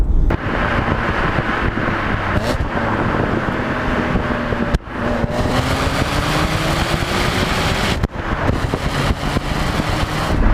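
A BMW Z4 M Coupe with its S54 engine drives hard, heard from inside: a loud, steady engine drone under heavy wind noise, with two brief breaks in the sound around what seem to be gear changes.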